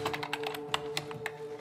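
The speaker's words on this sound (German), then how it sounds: "In der Pathologie sitzt Anja am Computer und tippt." Typing on a computer keyboard in a pathology office, a quick run of soft, uneven key clicks over a low steady hum.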